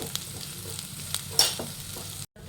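Onion with curry leaves frying in hot oil in a pan, a steady close sizzle with a brief stirring scrape partway through, then a sudden cut to silence near the end.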